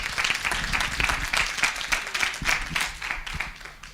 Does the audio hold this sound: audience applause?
yes